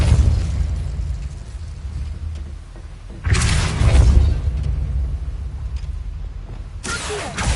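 Fire spell cast in Hogwarts Legacy inside a mine, a rumbling burst that swells near 3.3 s over a low ambient drone, with a second sharp flare near the end.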